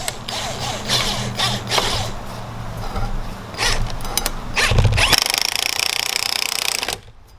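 A spring compressor is tightened down on a Saab 9-5 front strut, likely with an impact gun: loud rattling, hammering bursts that build, then a sharper rapid buzz before it cuts off.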